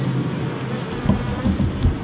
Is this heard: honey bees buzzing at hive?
yes